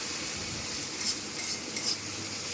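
Chopped garlic and tomato frying in butter in a wok over a medium flame for dal makhani, giving a steady, close sizzle with a couple of soft stirring scrapes and utensil touches.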